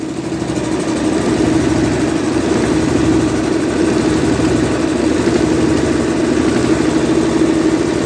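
A single-cylinder diesel engine on a test bed runs steadily under electrical load, a loud continuous low chugging drone with no pauses and no voices over it.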